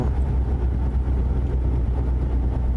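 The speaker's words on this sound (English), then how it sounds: "we got to listen to those engine brakes" Low, steady rumble of truck engine brakes in American Truck Simulator, a continuous droning roar with no break and no talk over it.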